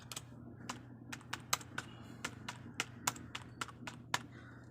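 A CNSE number is typed on a computer keyboard: about fifteen quiet, crisp key taps at an uneven pace over a low steady hum, with no talking.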